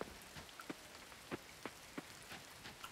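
Rain falls in the farming video game Coral Island as a steady hiss of rain on surfaces, punctuated by individual droplet taps at irregular intervals, with no talking over it.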